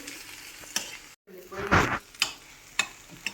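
Mashed potatoes stirred in sizzling oil in a pan, with a steady frying hiss broken by scraping stirs and a louder swell of sizzle midway, a brief cutout early on.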